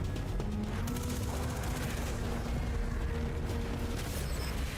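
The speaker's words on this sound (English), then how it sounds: "I forgot I had a rocket launcher." Weapons fire in a Destiny-style shooter game, with a dense, continuous roar of blasts and booming explosions, loud and unbroken throughout with no speech.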